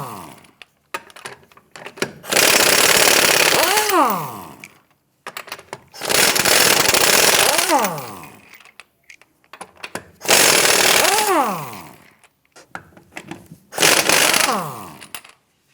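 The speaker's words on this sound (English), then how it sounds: "let's get it loosened and remove the lug nuts" A 21mm socket on a power tool spins lug nuts off the rear wheel of a 2008-2013 Nissan Rogue, four loud whirring bursts of a couple of seconds each with rising-pitch wind-downs, separated by short pauses.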